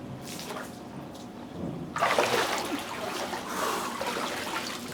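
A person dunks into cold water, a sudden loud splash and churning slosh after a quieter trickling start, close by and without speech.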